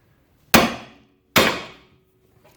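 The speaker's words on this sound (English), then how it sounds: "I usually just take a big hammer and smack it, and it'll come loose" Big hammer smacking a ball joint loose while removing a front-wheel-drive engine, two sharp loud metallic strikes with ringing decay about a second apart, then the start of a third, close and without talk.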